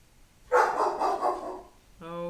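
Kiki the dog lets out a loud, close burst of barking lasting about a second, followed after a pause by a shorter, sharper yelp or whine.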